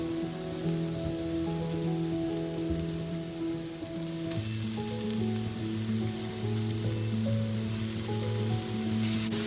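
Minced meat sizzles steadily in a pan over garlic-ginger paste, a continuous close frying hiss with no one speaking.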